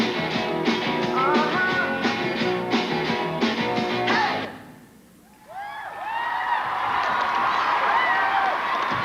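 A large arena crowd at the 1989 college cheerleading national championship cheers and whoops steadily over amplified music and a voice, dipping briefly before the roar returns.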